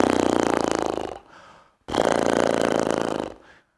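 A euphonium warm-up lip buzz made with loose lips to imitate a horse snort: two loud fluttering raspberries, each about a second long, separated by a short pause, close and alone.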